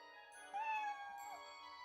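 A cat in the video game Odin Sphere Leifthrasir gives a single drawn-out meow with a bright, wavering pitch, heard clearly over quiet background music, with no speech.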